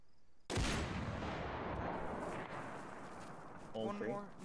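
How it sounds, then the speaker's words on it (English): A single loud gunshot fired as bait in a multiplayer video game, with a sharp onset and a long rumbling tail that fades over several seconds, followed by faint game effects. "Dan, do a bait shot in the compound"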